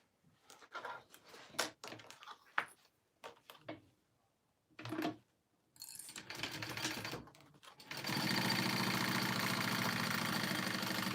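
A sewing machine basting a seam, starting in short stop-start bursts of stitching with gaps, then running steadily and fairly loud for the last few seconds.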